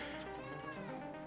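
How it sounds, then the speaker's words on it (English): A house cat meows close by, a sustained, tonal call with bright layered harmonics that holds steady for over a second at moderate loudness, with no talking. "my cat needs to say hello"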